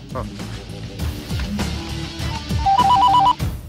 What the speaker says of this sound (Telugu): వానికి ఫోన్ కలిపిరా